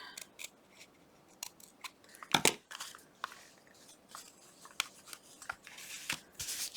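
Scissors snip paper for a Valentine envelope in a quiet room, a string of short crisp cuts spaced irregularly with one louder rustle of paper midway, close up and alone.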